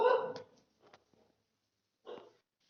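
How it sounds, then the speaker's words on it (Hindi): Dogs barking outdoors in the early morning, a loud burst at the start followed by a couple of fainter distant barks and one more short bark about two seconds in, no talking. "आप देख सकते हैं यहाँ पर कुत्ते भी भौंकने लगे हैं।"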